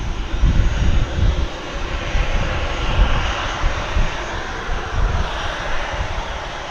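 A Boeing 747 jet taxis at DFW Airport, its engines giving a loud, rumbling drone with low pulsing swells that stays steady and fairly close throughout.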